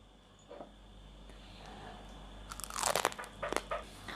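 Crisp crunching bites of a chocolate Easter egg nest treat, several sharp crackly bursts close to the ear, following a quiet stretch with faint background noise.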